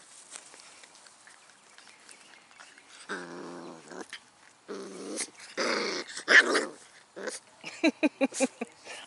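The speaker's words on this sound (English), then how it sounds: "This is what a puppy attack is like." Six-week-old Wirehaired Pointing Griffon puppies growl and yap in close, scrappy bursts, starting quiet and building to a quick run of sharp little barks near the end, with some faint human sounds in between.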